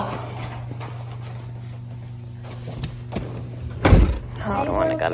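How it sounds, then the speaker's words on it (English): A car door opening, a dull thump and latch clunk partway through, followed by rustling, with an engine idling steadily underneath and people talking nearby. "Okay, open the door."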